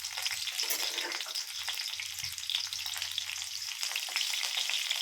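Crushed garlic frying in hot oil for onion rice, a steady close crackling sizzle with occasional stir sounds throughout, no talk.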